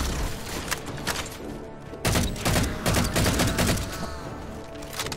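Dense bursts of gunfire from the Halo 4 video game, with deep booming shots and rapid automatic fire overlapping continuously and loudly, plus a heavier impact near the midpoint, with no talking over it.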